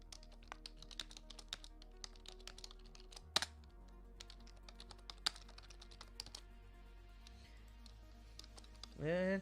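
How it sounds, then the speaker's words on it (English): Typing on a computer keyboard, a long run of light, irregular key taps at close range, with a louder clack partway through and a brief swelling tone at the end. "that's because I'm typing it in and building dramatic sense"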